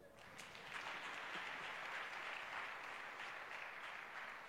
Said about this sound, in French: On peut acclamer Jésus.